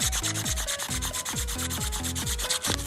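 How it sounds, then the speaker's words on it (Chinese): Fine sandpaper rubbed back and forth against a car alternator's slip ring during a repair, a close, steady rasping scrape repeating in quick rhythmic strokes without pause, no voices. "我们用细砂纸把这个滑环给它打磨一下"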